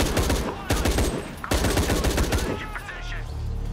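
Rapid automatic drum-gun fire in Shadow of the Tomb Raider, dense sustained bursts with short gaps, loud and close, ending in debris and environmental crumbling.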